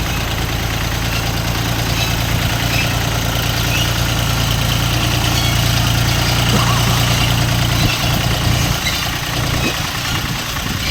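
A Dongfeng 244 G2 mini tractor's small diesel engine idles steadily nearby with a low, even throbbing rumble and rattling vibration, running alone without any talking.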